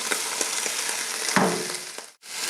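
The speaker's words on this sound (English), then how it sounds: "So we add our onions." Chopped onions hit a hot pan already holding browned beef, giving a steady close sizzle with a sharp hiss surge midway, then a brief dropout before the frying resumes.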